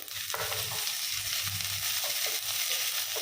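Green chillies frying in a pan of hot oil while making poha upma, a steady close sizzle with bursts of crackling and occasional stirring.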